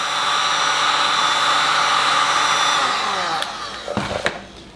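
A heat gun set to low blows steadily and close by while softening thick Xpel protection film on JW Speaker 8700 Gen 2 headlights. Its broad airflow roar fades toward the end, where a few sharp crinkles and taps break through.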